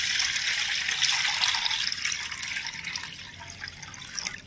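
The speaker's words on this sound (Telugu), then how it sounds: "ఈ పళ్ళెంలో ఏంటంటే వాటర్ వేసుకోవాలి" Water poured into a brass plate during a devotional puja, a steady bright splashing and trickling stream that runs on, fairly close, with no talk.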